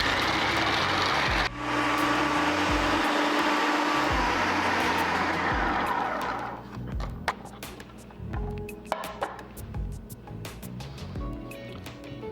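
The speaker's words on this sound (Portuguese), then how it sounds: "batendo bastante para justamente liberar todo o óleo e incorporar todos os ingredientes" A blender beats peanuts into a thick paçoca mixture, its motor whirring loud and steady for about six seconds before cutting off, followed by scattered clicks and light handling noises.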